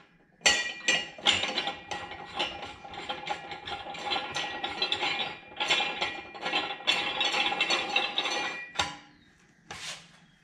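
Portable manual tire changer being tightened down over the lug nut holes with a hand ratchet: steady metallic ratcheting and clinking through most of the span, close and fairly loud, pausing briefly near the end before one last sharp click.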